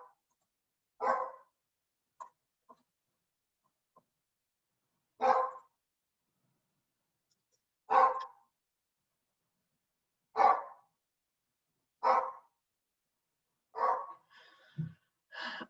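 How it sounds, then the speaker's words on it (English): A single dog barks in the background, sharp isolated barks spaced a few seconds apart over a quiet room, fairly distant, with a few small yips and breathy sounds near the end. "apologies for the dog in the background"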